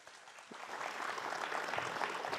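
Applause from a small audience at a Balinese-language quiz event in Klungkung, a steady dense patter of clapping that swells slightly and holds for a couple of seconds at moderate distance.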